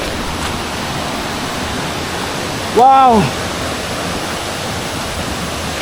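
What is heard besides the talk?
forest river flowing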